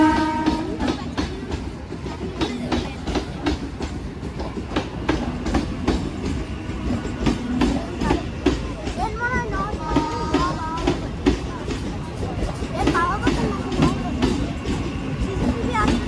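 A passing local passenger train with an Alstom rake rumbles loudly nearby at Barasat Junction, with rhythmic clickety-clack of wheels on rails and brief horn-like tones partway through.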